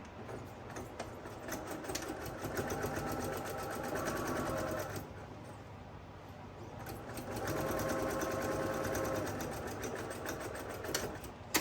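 Sewing machine stitching shut the turning opening of a reversible flat-bottom tote bag with a short 2.2 mm stitch; a close, rapid mechanical whirr runs in two bursts with a brief slower pause between, no talking.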